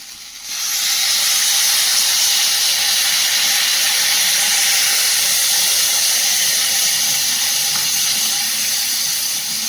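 Water hits sautéed vegetables, including brinjal and bitter gourd, in a hot pan for shukto, bursting into a loud, steady steamy sizzle that holds at a constant hiss throughout.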